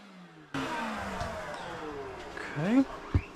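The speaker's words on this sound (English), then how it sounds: "Let's go ahead and vacuum this up." Vacuum cleaner sucking up guinea pig cage bedding, switching on abruptly with a steady motor whine, then rising and gurgling briefly as debris is drawn in, with a quick knock near the end.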